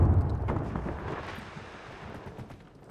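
Gunfire in Call of Duty Warzone, a quads match on the Vondel map: a low, muffled burst of shots and booms at the start that thins into a rumbling tail, fairly quiet and distant.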